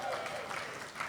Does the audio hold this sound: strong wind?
no